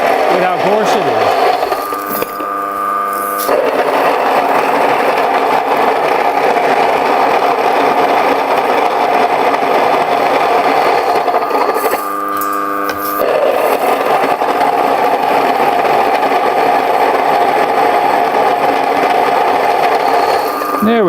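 Mockmill grain mill grinding, a loud, steady mechanical whir with a gritty texture, running continuously with two brief pauses where the tone shifts as grain is run through again.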